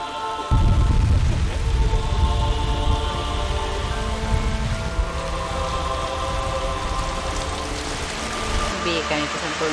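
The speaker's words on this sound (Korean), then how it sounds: "세차게 비가 쏟아집니다." Heavy rain shower pouring down over the open sea, a dense, steady roar of falling water that swells loud after a brief quiet start and holds for the rest, with a faint low rumble beneath.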